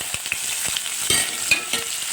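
Chopped onions frying for sambar, with a steady close sizzle and crackle in the pan, broken by a few soft scrapes of stirring. No voices are heard.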